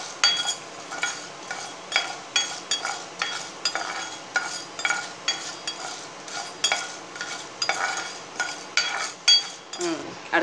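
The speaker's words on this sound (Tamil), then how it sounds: "ஃப்ரை பண்ணிக்கிட்டே இருங்க. கொஞ்சம் பொன்னிறமாக வரட்டும் உளுந்தம்பருப்பு." Urad dal fries in a pan for coriander chutney and is stirred steadily with a metal spoon, giving repeated close scraping strokes and clinks in a regular rhythm over a soft background sizzle.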